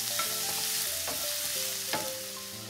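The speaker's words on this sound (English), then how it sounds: "Once the oil is hot, add the garlic and fry on medium heat until fragrant." Garlic fries in hot oil over medium heat for a soy sauce prawn stir-fry, giving a continuous close sizzle with a few scraping stirs of a utensil against the pan and no talking.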